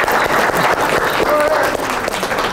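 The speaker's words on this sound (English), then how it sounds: "Let's give Jane a round of applause." Applause from a group seated at tables during an icebreaker session, a sustained patter of many hands clapping at moderate distance, fairly loud and unbroken throughout.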